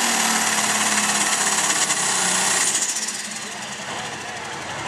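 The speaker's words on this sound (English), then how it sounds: "Bring the RPMs up on the John Deere" John Deere light pro stock pulling tractor at a county fair tractor pull, its engine revving hard with a loud, rough, rattling roar that eases off slightly partway through.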